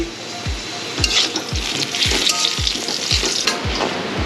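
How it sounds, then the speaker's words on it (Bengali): Potatoes fry in a pan with a steady, bright sizzle, punctuated by regular low thumps about twice a second. No one speaks. "আর এখানে আমি অলরেডি আলু ভাজা স্টার্ট করে দিয়েছি"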